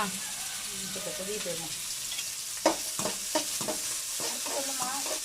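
Spinach sizzles in an oiled pan with onions while being stirred with the handle end of a ladle, giving repeated scraping strokes and soft clacks against the pan over a steady frying hiss. Someone speaks in the background.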